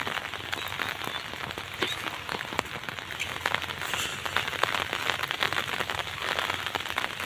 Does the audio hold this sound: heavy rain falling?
yes